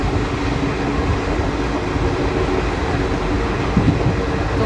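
The Amravati Express running on the rails, a loud steady rumble and rattle of the moving carriages heard from inside, with a faint clack of the wheels near the end.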